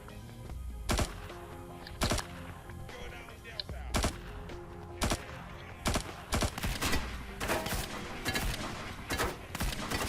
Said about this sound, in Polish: o, ale mnie tutaj siekają niesamowicie.